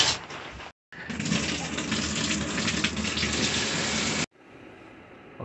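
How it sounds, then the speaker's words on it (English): Running water from a shower pours as a steady, close hiss, cut off briefly near the start and then stopping, leaving a quieter room. "about to take a shower, get cleaned up"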